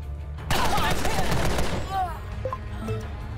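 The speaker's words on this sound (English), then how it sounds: "Open fire." Rapid bursts of gunfire from a firefight in the video game Empire of Sin, a loud dense volley that dies down into scattered distant shots and ringing tones.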